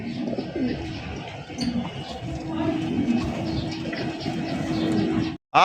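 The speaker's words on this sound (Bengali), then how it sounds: "দেখেন ব্ল্যাক কালারের রাশিয়ান গিরগিট কবুতর দেখছেন কত সুন্দর কালার" Black Russian Girgit pigeons cooing at a pigeon market, steady low, throaty coos repeating close by over a soft background murmur, with a brief dropout near the end.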